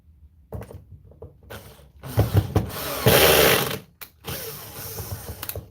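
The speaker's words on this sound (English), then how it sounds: "And there's always that one screw that doesn't want to go in the first time." A screwdriver driving screws back into an Xbox Series X console during reassembly after an HDMI repair: close mechanical clicking and whirring bursts, the loudest a sustained grinding stretch in the middle, with no talking.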